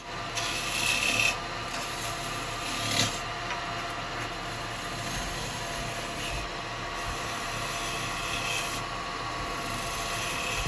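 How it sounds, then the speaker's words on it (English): A roughing gouge cuts into a sycamore vase blank spinning on a wood lathe, giving a continuous raspy scraping with small surges in intensity, fairly close and steady throughout with no talking. "So I might take a bit of wood away with a roughing gouge at first"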